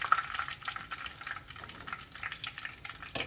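Steaks fry in a cast iron pan with a steady, close sizzle and crackle that runs throughout at moderate level, with a brief louder burst near the end.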